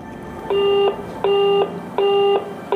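An international telephone line to England repeats a steady electronic tone, four even beeps of about a third of a second each with short gaps, loud and clear.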